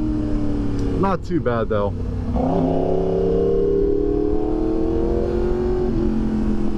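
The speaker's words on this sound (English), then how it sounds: "The quick shifter sound feels really solid on the upshift." A 2020 Yamaha R1M sport motorcycle revs hard through quick-shifted upshifts with rising engine pitch and rapid gear changes, then settles into a loud sustained drone, with someone talking briefly over it early on.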